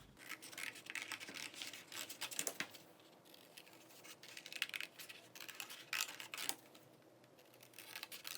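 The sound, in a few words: cutting out paper for hair pin adornments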